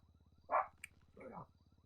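A pair of dogs in a GTA roleplay courthouse scene give two short barks against a low, steady game hum, fairly quiet and close.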